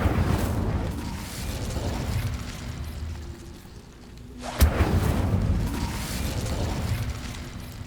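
Fiery Incendio spell cast in Hogwarts Legacy: a rumbling whoosh, then a sudden burst and a lingering roar of flame that fades, with no voices over it.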